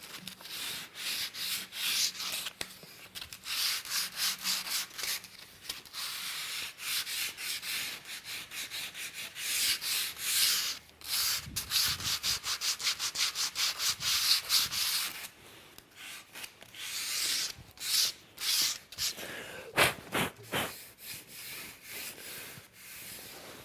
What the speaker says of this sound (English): So we'll just hit that with the sandpaper.